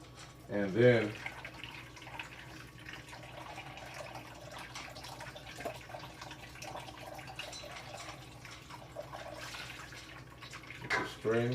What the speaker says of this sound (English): get the string, pull it like this, and just drain all the milk out of there.